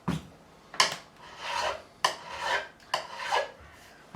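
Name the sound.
sanding guitar frets with 400 grit abrasive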